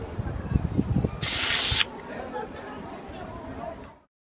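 Rubber coating sprayed onto a Redington Rise fly fishing reel: one loud, close hiss from an aerosol can lasting about half a second. Someone talks before and after the burst.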